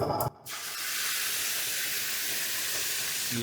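Spinach puree poured into a pan of hot butter and cumin, with a short splash and then a loud, steady sizzle and hiss that stays close and constant until the end, with no talking.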